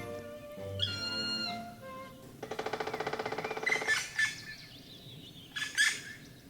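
High, thin bird calls from a young woodpecker, a rapid trilling burst followed by a few sharp chirps, fairly faint against a quiet outdoor background.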